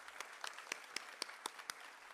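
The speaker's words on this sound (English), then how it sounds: "Let's give them a round of applause." Sparse, quiet clapping comes from a small group at the inauguration of the Window on Korea and King Sejong Institute in Dhaka, honoring colleagues who rise; distinct separate claps sound over a faint room hum.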